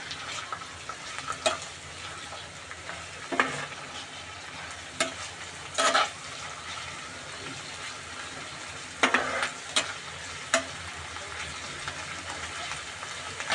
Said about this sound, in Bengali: এবার এগুলোকে আমি মিশিয়ে নিব